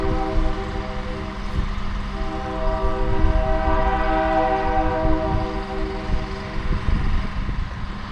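A yard job train on the PNYJ works near the Broad Street crossing, a steady low diesel rumble with sustained tonal horn-like harmonics, loud and continuous throughout with no talk.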